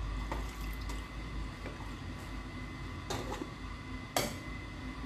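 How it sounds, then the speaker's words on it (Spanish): Water poured and splashed into a pot of melting chocolate while making a Sacher torte, with soft drips, clinks and a sharp kitchen knock over steady background hum. "Vamos a agregar un poquito más de agua"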